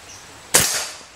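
A single sharp crack from a Marauder PCP air rifle, close and loud with a quick decaying tail, over quiet outdoor background.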